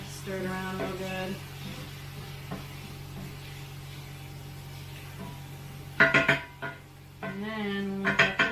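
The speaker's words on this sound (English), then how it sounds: "Put that in there, stir it around real good." Olive oil being stirred into a fathead pizza dough mixture in a bowl, with clinks and scrapes of a utensil against the dish, near and moderately loud, alongside a steady background hum and brief stretches of voice.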